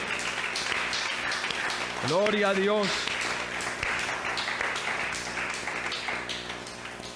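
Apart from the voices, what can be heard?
church congregation applauding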